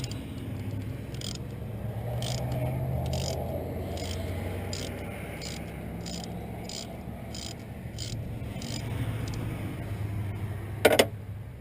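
A ratchet works loose a spark plug from cylinder three of a 1994–2002 Saab 9-3 turbo, giving a regular run of crisp clicks over low background hum, ending in one sharper clunk.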